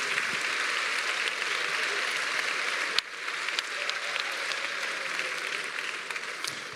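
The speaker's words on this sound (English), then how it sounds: "so that everyone can recognize your achievement with another big round of applause" Steady audience applause for graduating business school students at a graduation celebration, dense and even clapping from a large hall crowd, with one sharp bang about halfway through.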